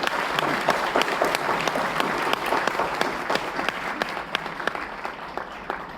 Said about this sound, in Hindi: एक जोरदार ताली मैं चाहूँगा इंजीनियरिंग कॉलेज के सारे बच्चों के लिए जो धैर्य से अभी तक बैठे हैं.